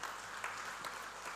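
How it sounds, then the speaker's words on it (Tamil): An audience at a Tamil comedy debate show gives applause, heard as a brief, faint, even wash of clapping with no other sound above it. "உற்சாகமான கரகோஷம்"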